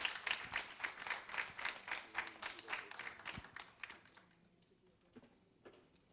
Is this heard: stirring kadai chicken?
no